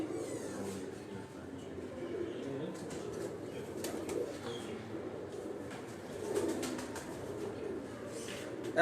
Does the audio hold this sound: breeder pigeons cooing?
yes